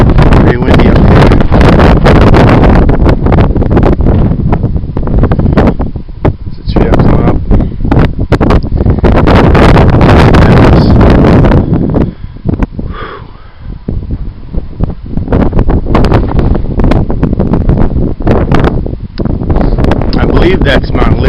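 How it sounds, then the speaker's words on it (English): Strong wind blasts across an exposed mountain ridge, roaring and buffeting the microphone almost nonstop, with a short lull in the middle before the gusts build back to full force. "Pretty windy up here."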